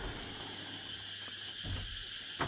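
Cicadas drone loudly and steadily near rice fields in Vietnam in the evening, a continuous high buzzing wall of insect noise that fills the whole scene.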